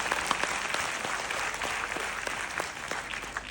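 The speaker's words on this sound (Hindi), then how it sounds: "तालियां एक बार साथ में।" Crowd at a Forever Business seminar clapping together in a hall, a loud, close burst of many hands with a few sharper individual claps standing out, holding steady before easing slightly toward the end.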